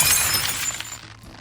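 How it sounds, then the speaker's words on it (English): A glass frame smashed against a wall bursts into a bright, crashing shatter, with tinkling fragments trailing off over about a second. "he forcefully strikes the glass frame against the wall,"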